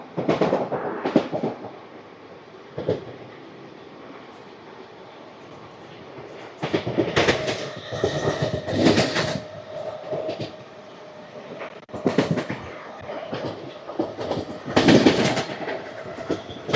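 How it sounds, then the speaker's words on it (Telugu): An express train, the Guntur–Rayagada Express, runs through Regupalem railway station without stopping. Loud, close rumbling rises in waves, with bursts of clickety-clack and metallic rattling as carriages pass. "Skipping Regupalem railway station."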